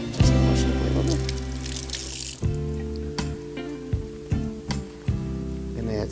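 Fresh mint leaves being rinsed under running water while lemonade is being made, with a steady splashing stream and some louder intermittent splashes against a low background hum.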